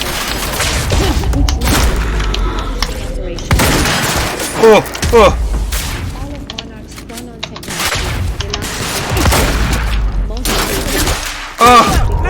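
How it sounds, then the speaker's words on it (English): Suppressive gunfire in the video game Quantum Break, loud bursts of rapid shots in repeated volleys with heavy booms and impacts, separated by brief lulls where voices and other game sounds come through. "Suppressive fire!"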